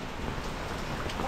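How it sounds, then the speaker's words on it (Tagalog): Heavy rain pours down steadily, a dense loud hiss of drops on surfaces throughout, with faint voices in the background. "Ang lakas ng ulan."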